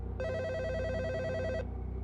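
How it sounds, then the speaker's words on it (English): A telephone rings in one sustained electronic burst of about a second and a half, a bright warbling tone standing alone over low background hum, then cuts off abruptly. "Until the phone rang the first week of summer break."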